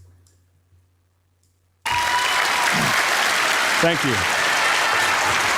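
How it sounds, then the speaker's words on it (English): A crowd breaks into steady, dense applause after a quiet opening, loud and sustained to the end, with a brief spoken thanks partway through. "people start clapping"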